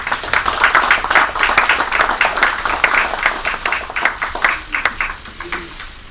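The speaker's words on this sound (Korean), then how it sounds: "큰 박수로 맞아주시기 바랍니다." An audience at a Kwanhun Club invited debate claps to welcome a speaker to the stage, steady dense applause from many hands that thins out toward the end.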